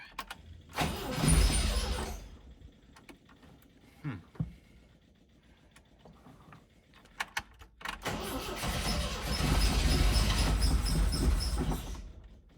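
A 1974 MGB engine, freshly fitted with a rebuilt carburetor, cranks in two separate bursts with a quiet gap between them, catching and running roughly during the longer second attempt.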